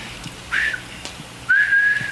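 A man whistles two sustained high tones in imitation of an old telephone line tone, the second longer and steadier, close and clear with no talk over it.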